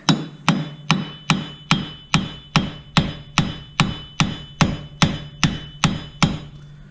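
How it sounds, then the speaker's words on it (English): Sharp hammer blows strike metal in a steady rhythm, freeing a Chevy Malibu front wheel bearing, about two per second, fifteen ringing hits in a row with no talking. "a couple more wraps with the hammer, and that should break it free"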